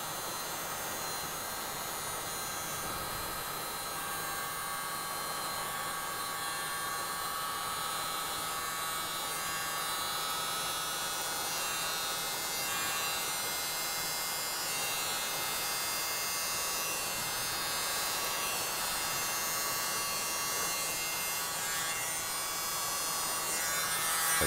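Steady, continuous whirring hum of a small electric mini blower spreading cell activator for nail art, running evenly and close for the whole stretch without speech.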